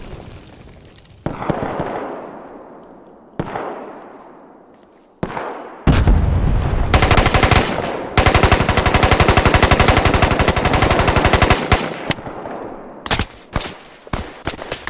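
Roblox gunfire crackles in rapid automatic bursts, with a few sharp single shots early on, then a long, loud, sustained volley and more bursts near the end.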